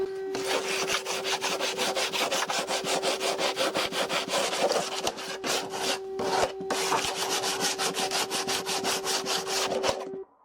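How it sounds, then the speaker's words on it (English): Sandpaper rubbed by hand over the cut plastic surfaces of a part during an Indesit washing machine bearing replacement. A steady, close scratching in fast back-and-forth strokes runs the whole time, with a constant tone held underneath. "we'll sand it down well with sandpaper on both cut surfaces"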